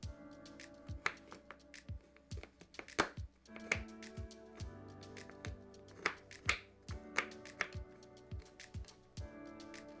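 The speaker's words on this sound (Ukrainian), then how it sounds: "ножем ріжемо плитку чорного шоколаду" Repeated sharp knife chops through a bar of dark chocolate on a cutting board, irregular but steady, close up and fairly quiet, with no one talking.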